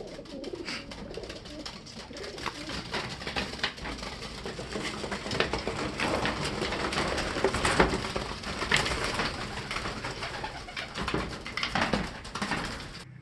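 Racing pigeons on an early morning loft flight, cooing steadily with soft fluttering and scuffling mixed in, a busy flock sound that swells and continues without pause.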